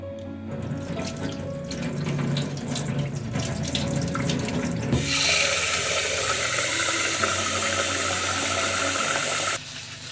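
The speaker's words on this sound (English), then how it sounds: "When making Japanese rice, make sure to wash the rice thoroughly or until the water runs clear." Japanese rice is rinsed in a kitchen sink, first with swishing and sloshing of grains in water, then a steady strong stream from the tap running for several seconds before cutting off.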